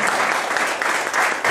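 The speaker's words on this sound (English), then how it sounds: "friends, I would request you to please give a big round of applause." A talk audience gives a round of applause, dense continuous clapping from a crowd throughout, loud and close.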